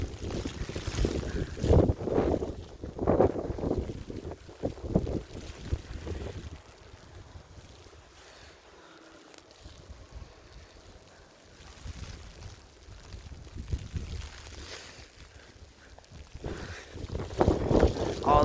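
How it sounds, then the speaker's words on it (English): Blizzard wind drives blowing snow in Aberdeen, South Dakota, a loud, close roar of gusts buffeting the microphone that swells, eases in the middle and surges again toward the end. "All that snow's coming and blowing. This is all blizzard."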